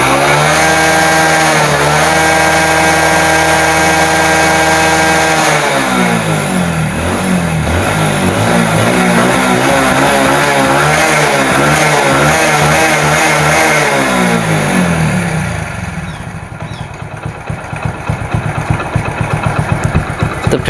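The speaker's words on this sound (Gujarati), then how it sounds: "કમ્પ્લીટ બાઇક થઈ ગયું ચાલુ" A motorcycle engine that had trouble starting in the rain runs loud and close, revving up and down in repeated surges before settling into a rougher, lower idle.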